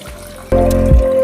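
Water poured from a glass into rice in a pressure cooker for mushroom biryani, a loud close splash and trickle that starts abruptly and runs steadily for under a second.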